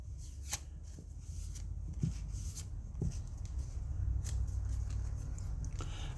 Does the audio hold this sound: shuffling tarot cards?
yes